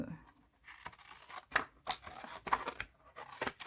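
Scissors quickly snipping a paper square, a run of crisp close cuts with faint paper rustle between them, quiet and unaccompanied by talk.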